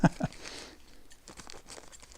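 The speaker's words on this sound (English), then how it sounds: "So we get out my trusty scissors." Scissors snip through a D'Addario guitar string package, a couple of sharp crunchy cuts and crinkling plastic at the start, then softer rustling, close and fairly quiet.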